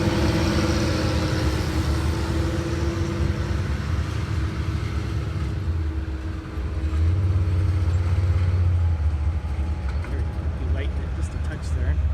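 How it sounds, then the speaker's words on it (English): Engines of sand drag race cars at Avenal Sand Drags rumble and idle in the background beneath a commentator's continuous talk, a low steady drone with a brief louder swell near the end. "and we got cars running."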